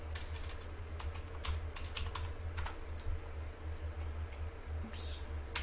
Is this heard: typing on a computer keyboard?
yes